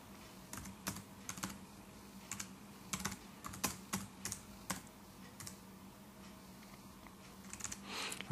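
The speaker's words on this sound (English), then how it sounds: "Now I'm just going to hold there a minute while I just type this in." Fingers typing on a computer keyboard at a login page, soft irregular clacking keystrokes in short bursts and single taps over a steady low hum, faint and close, with no speech.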